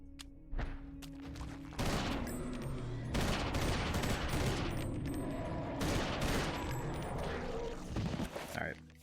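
Gunfire in the video game Eternal Darkness: Sanity's Requiem, rapid bursts of shots in repeated volleys with brief pauses between, fairly loud and close.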